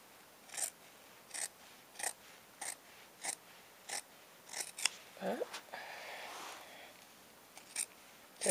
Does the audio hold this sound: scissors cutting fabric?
yes